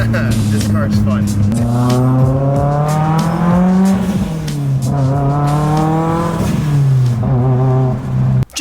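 A Mitsubishi Evo drives and accelerates on a Texas road, its engine revving loud and close in rising and falling pulls with gear shifts, continuous throughout.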